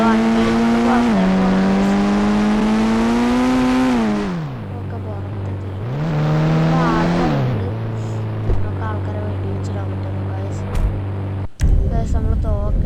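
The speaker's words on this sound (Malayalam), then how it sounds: "വണ്ടി സൗണ്ട് നമ്മൾ വണ്ടി എടുക്കൊണ്ട് പുറത്തേക്ക്" A Toyota Fortuner in a video game revs loudly and drives off, its engine tone rising and falling through gear changes before settling to a lower drone, with a sharp knock near the end.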